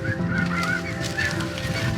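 Snow geese honking overhead during a spring hunt in South Dakota, a steady overlapping chorus of nasal honks, loud and close, with no talking.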